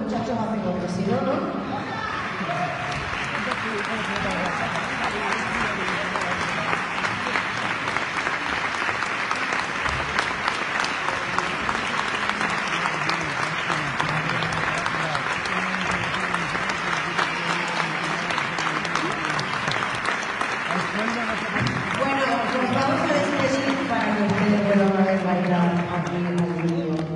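Concert audience at a copla and flamenco show applauding loudly and continuously, a dense sustained wash of clapping with crowd voices mixed in and some speech near the end.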